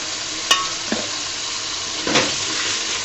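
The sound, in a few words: potatoes frying in oil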